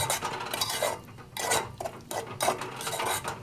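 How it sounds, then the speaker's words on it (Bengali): Coriander leaves are stirred in hot oil with a utensil, producing repeated scraping and clinking strokes against the pan in an uneven rhythm, close and moderately loud, with no speech. "গরম গরম তেলেই এটাকে আমি নেড়ে নিচ্ছি"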